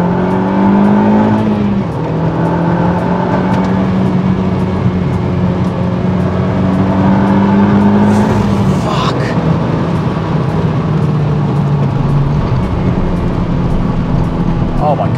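A Renault Megane R.S. hot hatch engine roars steadily and loudly throughout, with a brief whooshing rush partway through; no one speaks.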